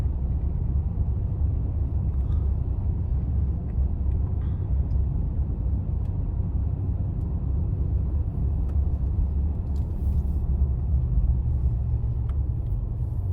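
A car rolls along a freshly paved road at the Bluffs on the Cape Fear, giving a steady, muffled low rumble of engine and tyres from inside the cabin that holds even throughout.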